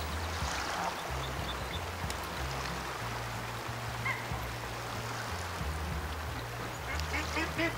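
Ducks quacking at the water in the hunting game Way of the Hunter, faint scattered calls over a low flowing-water hiss, with a murmur of talk underneath.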